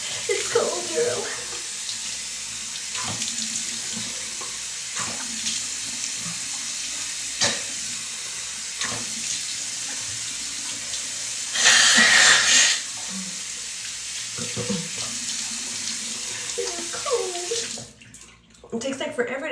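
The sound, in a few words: water running from a tap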